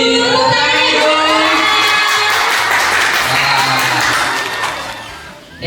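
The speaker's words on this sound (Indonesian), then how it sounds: "Tepuk tangan dong." A crowd claps and cheers loudly at a product launch event in Surabaya, dense applause mixed with children shouting and whoops, holding steady for several seconds before thinning out near the end.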